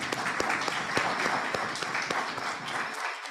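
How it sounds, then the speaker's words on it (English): A summit audience gives a sustained round of applause, dense and fairly loud clapping from many hands, continuing evenly before cutting off near the end. "Let's hear another round of applause."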